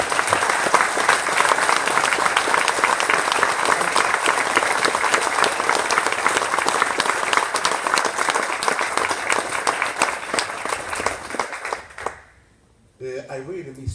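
Lecture audience giving a speaker sustained applause, a dense steady wall of clapping that holds strong for about twelve seconds, then drops away abruptly as a voice begins speaking.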